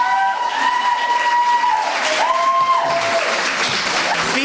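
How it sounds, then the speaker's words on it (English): Audience in Limerick applauding a round for two people, broadband clapping sustained throughout with tonal musical notes or feedback layered over it. "I want a round of applause for Gary and Sean"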